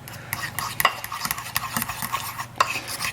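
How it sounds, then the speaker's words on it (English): Pizza crust dough is stirred in a bowl with a utensil, giving close, repeated scraping and clinking strokes in an uneven rhythm, with no voice over it. "Keep stirring."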